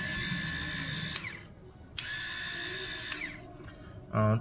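DSP 60087 multifunction men's electric shaver, turned on with a half-turn switch and running with a steady close buzzing whine, broken by a few sharp clicks and ending in a short louder tone.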